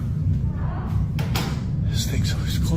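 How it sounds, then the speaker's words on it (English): A door swinging shut with a sharp thud, followed by another knock-like bang, in an office with raised voices talking around it. "This thing's always closing doors."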